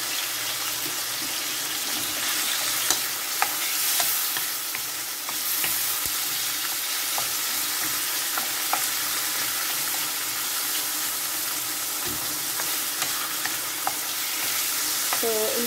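Chayote sautéing in a pan with black pepper, a steady broadband sizzle of frying running throughout, close and fairly loud, with occasional scraping and stirring clicks from a utensil and no talk.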